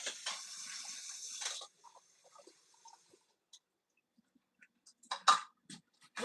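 Kitchen tap running while food is rinsed, a close hissing stream for the first second and a half, followed by quiet handling clinks and a brief splash near the end.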